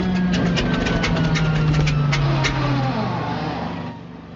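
A temperamental old airplane engine runs with a steady, rough drone and a slowly falling low tone that sags toward the end, close and loud, with no talk over it.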